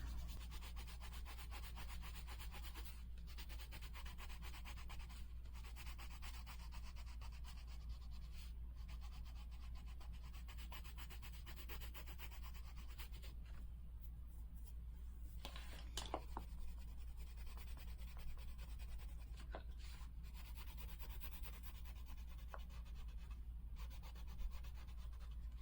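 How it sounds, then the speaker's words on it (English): Colored pencil burnishing on paper while shading skin tones in an adult coloring page, a faint, steady rubbing and scratching of pencil strokes over low background hum, without talk. "let's do some burnishing on her hands"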